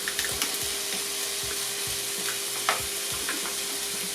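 Pancetta frying in a pan as a brisket ragu gets started, giving a steady, close sizzle with soft scrapes and stirring clicks throughout.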